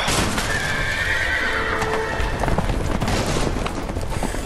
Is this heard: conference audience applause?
no